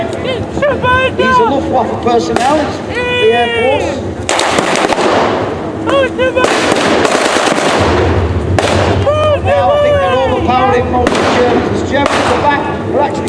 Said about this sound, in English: There goes another shot.